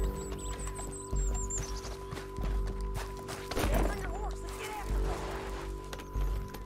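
Horse hooves clip-clopping in Red Dead Redemption 2, a steady rhythm of fairly close hoofbeats on hard ground beneath game ambience and a brief whinny, with people talking over it.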